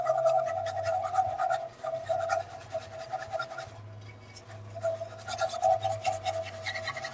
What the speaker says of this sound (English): Let's go ahead and whisk this up.